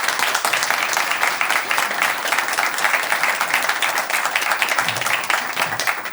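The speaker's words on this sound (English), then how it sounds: "could we please have a warm round of applause for Dr." Warm, dense applause from an audience at a law journal launch greets the speaker, with many hands clapping steadily and close throughout.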